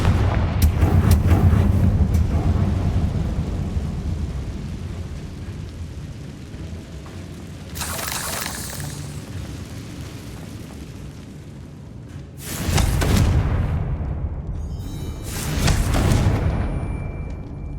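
Spell explosions from Confringo cast in the Hogwarts Legacy video game: three loud booming blasts arrive several seconds apart over a continuous rumbling game soundscape, with no talking.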